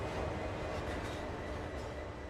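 A CSX freight train rolling in Train Sim World, a continuous low rumbling roll with a steady rail drone, close and even throughout.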